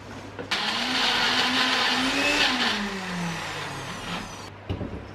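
A blender whirs loudly for about four seconds, its motor pitch rising then dropping before it cuts off abruptly.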